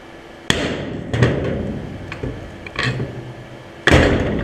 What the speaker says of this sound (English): Then I am going to tap in all the bolts.